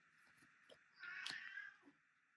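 A cat meows faintly in the background, one drawn-out wailing call after a couple of softer sounds, quiet and distant with no talking.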